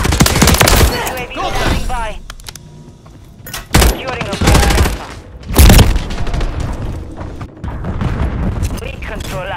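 Heavy automatic weapon fire and explosions in Modern Warfare 3 multiplayer, loud and sustained with sharp booming peaks, while in-game voices call out under the shooting.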